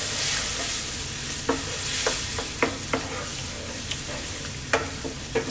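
Thick cooking cream being stirred into smoky bacon in a pan over lowered heat: a soft continuous sizzle with sharp spoon scrapes and taps at irregular intervals, close and alone.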